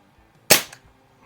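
A single sharp crack as a 1970 Crosman M1 carbine BB gun fires into a rag box, a close, brief snap that decays quickly into near silence.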